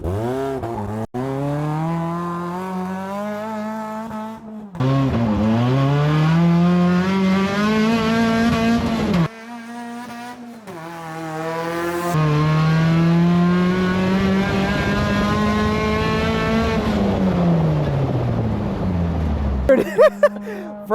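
A cheap track-ready race car launching at full throttle, its engine roaring up through the revs in long rising pulls with short pauses at the gear changes, loud and close, with voices mixed in.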